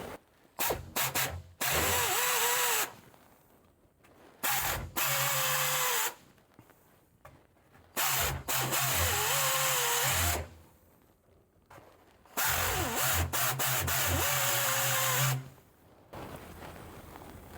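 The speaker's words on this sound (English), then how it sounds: "We just use a old drill with a paper cone on it." An old electric drill fitted with a paper cone chamfers the holes of a Toyota 22R engine block. It whirs loudly in four separate bursts of a couple of seconds each, with quiet pauses between them.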